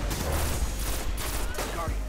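Rapid gunfire in Destiny during a Trials match, a dense continuous crackle of shots that stays loud and close throughout, with a voice speaking over it.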